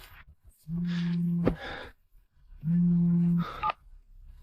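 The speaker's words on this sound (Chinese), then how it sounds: "小郑，这么半天才接电话，忙着呢？" Two long electronic phone rings in an animated drama, each buzzing tone lasting under a second, separated by a short pause with faint background noise.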